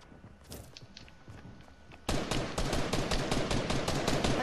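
Gunfire in a video game: sparse sharp shots at first, then a sudden burst into dense rapid automatic fire from about two seconds on, loud and close, with no talking.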